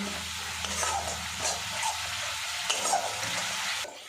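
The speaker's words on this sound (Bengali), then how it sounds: "মশলাটা দেখুন বন্ধুরা বেশ করে কষে নিয়েছি আর চারিদিক থেকে তেলটাও কিন্তু আলাদা হয়ে গেছে" Masala paste frying in oil and being stirred while cooking spinach with egg, a steady soft sizzle with light scraping and stirring knocks, close up and continuous with no voices.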